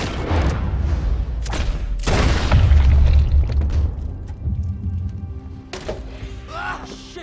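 Gunfire on a riverboat in Red Dead Redemption 2: several loud, booming shots with heavy low rumble and echoing tails, followed by quieter movement noise.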